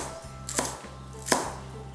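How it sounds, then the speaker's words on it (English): A kitchen knife chops green onion on a cutting board: two crisp, distinct thuds about three-quarters of a second apart, close and clear over a quiet, faintly humming room. "cut the green parts into about ½ cm and set them aside"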